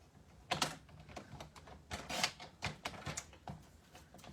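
Paper card stock being trimmed for a fold card, giving a run of short crisp cutting and rustling bursts at close range, irregular in rhythm, with no talk.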